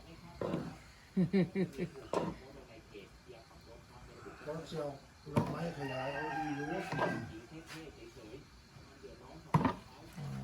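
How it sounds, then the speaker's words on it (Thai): Several rooster crows ring out, one long drawn-out cock-a-doodle-doo in the middle, with clucking and scattered bird calls around it. "ทั้งเสียงไก่ทั้งเสียงนกกาว่าว"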